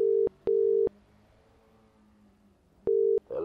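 A telephone line tone sounds during a call in a comedic video game review: three loud steady beeps in quick succession, then a pause and one more beep.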